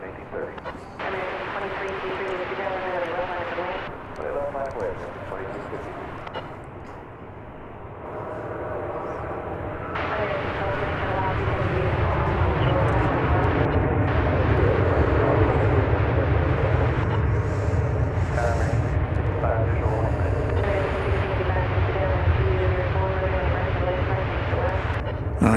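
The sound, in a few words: Boeing 737-800 airliner at DFW Airport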